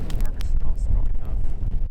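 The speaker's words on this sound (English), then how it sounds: "It's getting windy." Gusty winter wind at a tarp camp buffets the microphone with a low, rumbling roar, and a voice speaks briefly over it.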